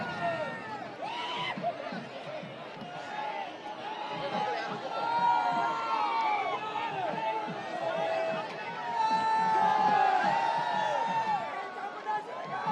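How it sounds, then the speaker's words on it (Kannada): A large festival crowd cheers and chatters along the route of the Mysuru Dasara Jamboo Savari elephant procession in 2024, a dense, continuous roar of voices with shouts rising and falling throughout. "ಎಲ್ಲ ಕಡೆ ಹರ್ಷೋದ್ಗಾರ ಮೊಳಗುತ್ತಿದೆ, ಜಯಕಾರ ಮೊಳಗುತ್ತಿದೆ"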